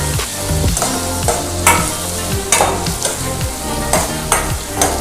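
Onions sautéing in hot oil in a pan for paneer dosa, a steady loud sizzle broken by repeated scraping stirs of the spatula at a regular rhythm, close up with no talking.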